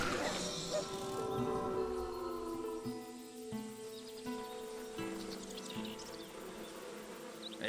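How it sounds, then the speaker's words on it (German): Swarms of bees buzz steadily in the fantasy action RPG Titan Quest, a dense droning hum running throughout alongside game music, loud and continuous without pause. "Ach, das sind dann Bienenschwärme"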